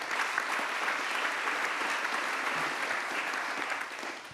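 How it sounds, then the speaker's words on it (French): Conference audience applauding three guests at a French business event on green growth, a sustained even wash of clapping from a large crowd that eases slightly at the end. "Vous pouvez les applaudir tous les trois."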